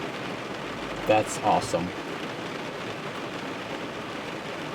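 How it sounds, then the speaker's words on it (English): Heavy rain drums steadily on a car as a constant hiss, with someone speaking briefly over it. "It's raining a lot"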